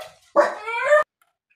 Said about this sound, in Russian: что-то разгавкались, при этом не на что гавкать, это просто на улице собачка гавкает, и они туда же